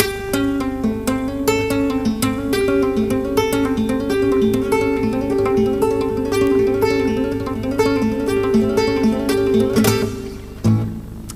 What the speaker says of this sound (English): And you can take your second finger and do that little move between the minor